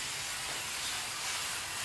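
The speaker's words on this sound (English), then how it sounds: "So we have a prep spray here." A stronger prep spray is misted onto a surface before a satin film install, making a steady, even hiss that runs unbroken for about two seconds with no talk.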